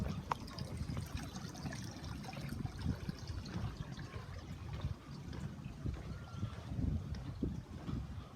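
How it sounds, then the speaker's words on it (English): Running water from the transom shower on a 2023 Tiara 49 Coupe yacht, a steady soft splashing trickle mixed with low rumble and breezy noise throughout. "Transom shower right there."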